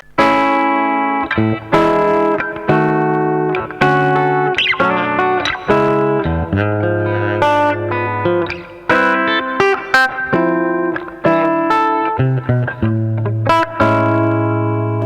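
An acoustic-electric guitar heard through its bridge pickup plays plucked notes and chords with a bright, somewhat electric tone, steady and close, with no talking.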